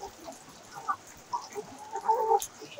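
Laying hens in a poultry shed give soft, scattered clucks and short calls, the sound rising a little toward the end, with no talk.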